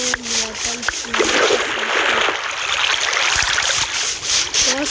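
Water pours out of a bucket in the block-building game LokiCraft as a rushing, splashy hiss lasting a few seconds, with a voice talking over the start and end.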